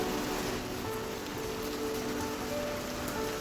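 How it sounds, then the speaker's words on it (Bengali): Steady, dense rainfall hissing on surfaces, a constant wash of drops with no voices and no pauses throughout. "প্রায় আধ ঘন্টা পঁয়তাল্লিশ মিনিট ধরে বৃষ্টি হচ্ছে"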